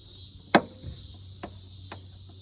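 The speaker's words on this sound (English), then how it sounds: "let's remove this plastic retaining clip" A flathead screwdriver pries at a plastic retaining clip in the rear wheel well liner of a 2019-2022 Toyota RAV4: one sharp close snap followed by two fainter clicks over a steady background hum.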